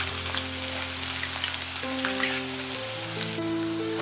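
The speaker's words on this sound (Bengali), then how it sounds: "জিরেটা বেশ ভালো করে ফেটে উঠেছে, ঠিক সেই সময় দিয়ে দিচ্ছি রসুন কুচি" Cumin seeds, chopped garlic and ginger fry in hot oil with a steady, loud crackling sizzle close up, with no voices, over sustained background music.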